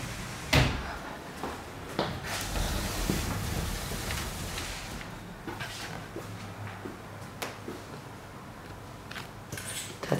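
Wooden drawers in a large wardrobe of a bright two-bedroom Paris apartment slide open and shut, giving several close knocks and thuds against a room hiss, with no talk.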